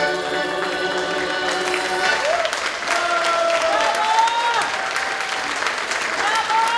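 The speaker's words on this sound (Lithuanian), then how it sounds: "Plojimai patys didžiausi, patys garsiausi" A concert audience applauds at a spring music event in Elektrėnai: sustained, dense clapping from a sizeable crowd, with musical tones and a voice faintly over the applause.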